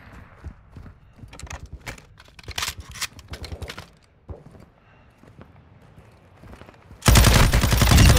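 Bursts of automatic gunfire in the Call of Duty Modern Warfare 2 DMZ mode on the Al Mazrah map, scattered rattling volleys near and far, then a sudden loud wash of noise at the end.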